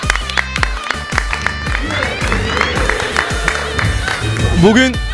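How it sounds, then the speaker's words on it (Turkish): An audience at a halay and house music night claps and cheers for the bands, with uneven clapping mixing into a crowd roar under continuing voices. "Onlara da böyle bir büyük bir alkış alalım."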